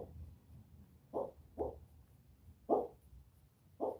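A dreaming dog making soft, muffled whimpering woofs in its sleep, five short low yelps spaced irregularly, faint and somewhat distant in a quiet room.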